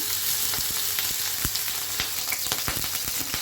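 Small sea shrimp frying in mustard oil in a pan give a steady, close sizzle with scattered sharp pops and crackles throughout, and no one speaks.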